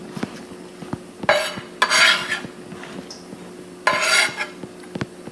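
Scallions stirred into a cooking pan with a utensil, giving short scraping and rustling bursts over a faint sizzle, with light clinks of metal between strokes.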